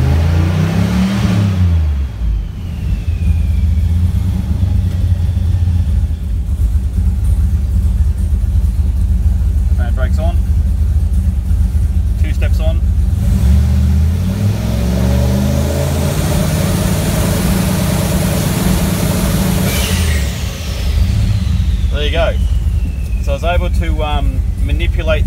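A car engine with a transmission transbrake and two-step launch control engaged, held stationary at high revs to build boost, giving a loud, sustained rumbling drone with fluctuating revs, under talk throughout.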